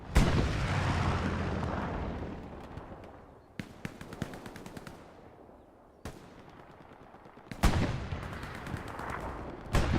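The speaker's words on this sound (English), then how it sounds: "Bombing run called into Gamboville, coming at a diagonal." Battlefield bombing run in the Hell Let Loose video game: sharp bursts of gunfire and booming explosions, loud and near, with repeated clusters of impacts and machine-gun rattle between rolling blasts.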